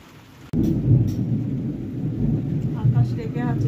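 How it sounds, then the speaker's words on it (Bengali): Loud thunder during rain, a sudden deep rumble bursting in and rolling on steadily over the patter of rainfall, close and heavy throughout. "দেখো খুব জোরে মেঘ ডাকছে,"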